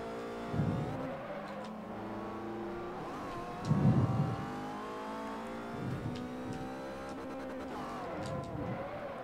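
A race car engine in the video game Forza Motorsport 4, a 2008 Aston Martin DB, revs and drones with rising and falling pitch, plus occasional bursts of louder acceleration.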